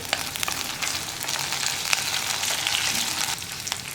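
Curry leaves hit hot oil in a pan for a potato and beetroot masala, giving a loud, dense, continuous sizzle with crackling pops scattered through it, close up and with no voices.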